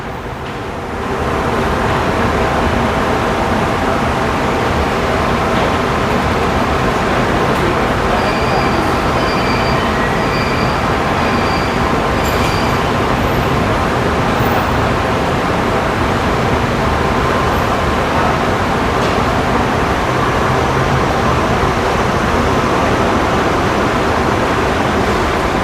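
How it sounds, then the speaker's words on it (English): A Kuala Lumpur monorail train pulls out of the station with a loud, steady rumble and rushing roar that rises after the first second and holds for the rest of the clip, with a few faint high tones partway through. "Let's capture our monorail train leaving the station."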